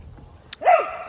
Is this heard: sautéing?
no